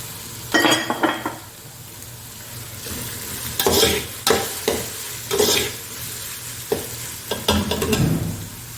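Mixed vegetables stir-frying in a pan for fried rice, vinegar going in: a sizzle under repeated scraping and clinking strokes of a utensil against the pan, close by, without speech.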